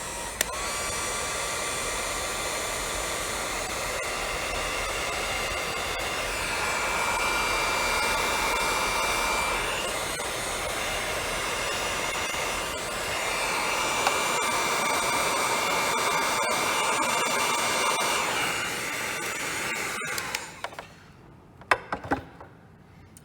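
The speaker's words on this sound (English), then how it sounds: "And I'll just turn on my heat gun," A heat gun blows steadily to shrink tubing over a wire splice during relay wiring on a 2013 Triumph Street Triple R, a continuous loud whooshing hiss lasting about twenty seconds before cutting off, followed by a few small clicks.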